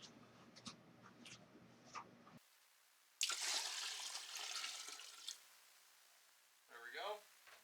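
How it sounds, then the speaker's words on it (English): Ultrasonic cleaner solution is poured and splashes into a toilet in a short gushing burst after a few muffled handling sounds, with a brief voice heard afterwards. "we're going to carry this out of here and dump it in the toilet."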